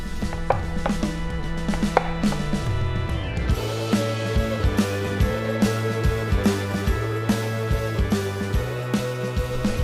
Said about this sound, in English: I'm just cutting that top part off where the stem was